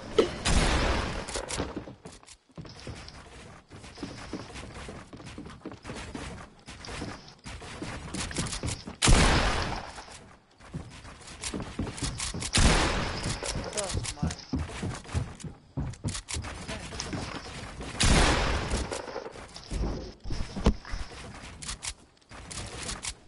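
Bursts of gunfire in a video game come in several loud clusters separated by quieter gaps, with sharp cracks over a busy background, while someone talks at points throughout.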